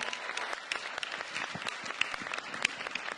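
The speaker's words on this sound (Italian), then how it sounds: "facciamo un bel applauso" A crowd applauding steadily, dense overlapping claps filling the whole stretch at moderate loudness with no voices.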